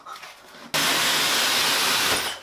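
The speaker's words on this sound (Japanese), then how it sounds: "温度を下げてね、風量を強くしてるんで、風の力で乾かしてます" A hair dryer on low heat and high airflow blows on a dog's fur after a bath. It switches on abruptly into a loud, close, steady rushing whoosh that holds to the end.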